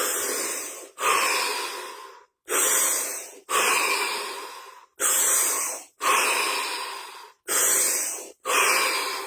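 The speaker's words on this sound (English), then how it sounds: "5 deep breaths" A person takes five deep breaths in a row, each a long, loud, close rushing inhale or exhale separated by brief silent gaps, steady and rhythmic.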